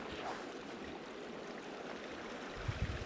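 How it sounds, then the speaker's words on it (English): Long Canyon Creek on the Pacific Crest Trail near Mount Laguna runs as a steady, close-up rush of flowing water, with a brief lower burble near the end and no talking. "We are here at the Long Canyon Creek."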